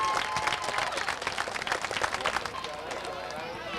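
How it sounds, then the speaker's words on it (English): Grandstand crowd applauding at a 1991 speedway race day, sustained clapping with many individual claps standing out, voices mixed in, fading a little toward the end. "once again, a nice round of applause for Kevin Durgan."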